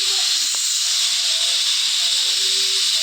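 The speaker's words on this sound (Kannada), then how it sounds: "ಎರಡು ಸೀಟಿಗೆ ಗ್ಯಾಸ್ ಕುಕ್ ಮಾಡಬೇಕು." A pressure cooker on a gas stove vents steam through its whistle while prawn biryani cooks, a loud, steady, close hiss that holds without a break from start to end.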